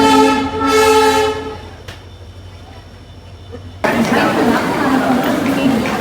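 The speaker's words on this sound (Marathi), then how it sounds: "एक जलद गाडी जाणार आहे." A fast train's horn sounds in long harmonic blasts, then after a quieter pause the train roars past a railway platform with loud, broad rumbling and rattling noise.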